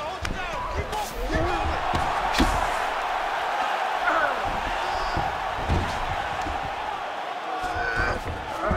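An arena crowd at a UFC 5 video game bout roars steadily from a distance, with scattered sharp thuds cutting through the continuous cheering.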